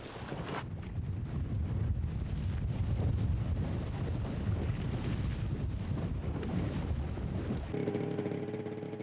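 Strong wind buffets the microphone at sea off Sakhalin, a loud, steady roar with water and boat noise mixed in, easing slightly near the end as a low hum takes over.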